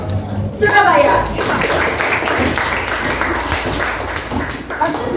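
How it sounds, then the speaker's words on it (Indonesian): Classroom applause for a student group in a lesson on legislation, steady and close clapping filling the room, with a voice speaking over the start. "Berikan aplaus untuk kelompok Surabaya."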